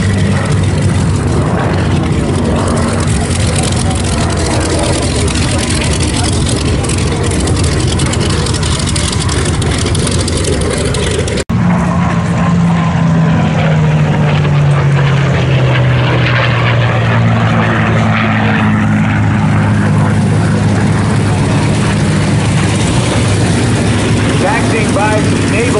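World War II naval propeller fighters such as a Grumman Bearcat and Chance Vought Corsairs flying at the Wings over Houston airshow, a loud continuous engine roar with a falling pitch as one passes, over outdoor crowd noise.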